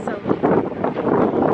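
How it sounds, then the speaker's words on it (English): Wind blowing outdoors during a graduation photo shoot, buffeting the microphone in a close, steady rumble with gusty swells and no clear talk. "it's windy out here"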